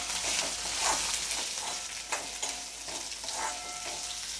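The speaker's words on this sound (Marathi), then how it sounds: "आता इथं मी कांदा आणि कढीपत्ता टाकून घेते आहे। कांदा सुद्धा चांगला परतून घ्यायचा।" Onion and curry leaves fry in a hot spiced tempering for Malvani kulith pithla, giving a steady close sizzle with occasional stirring scrapes, and no one speaks.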